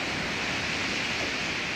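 Water pouring into a small outdoor pool with an earth bottom, filling it; a constant, even hiss and rush close by, with no talking.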